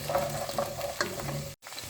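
Garlic and onion sauté in hot oil, giving a close, continuous sizzle with a few stirring scrapes, cut off by a brief silent gap near the end.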